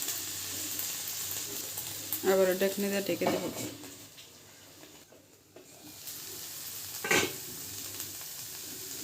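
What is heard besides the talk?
brinjal and fish frying in a pan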